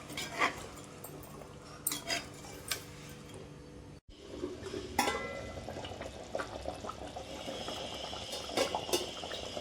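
Tamarind fish curry simmers in a pot on the stove, giving soft, irregular bubbling and popping with a brief clatter midway.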